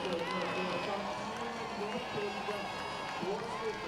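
A loud crowd cheers at the finish of a Paralympic visually impaired men's Super-G alpine ski race at Sochi 2014, a sustained roar under a commentator's voice.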